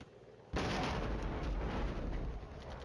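After a quiet half second, artillery fire in the wargame Flashpoint Campaigns Red Storm erupts into a heavy, sustained rumbling barrage with deep booms that persist to the end.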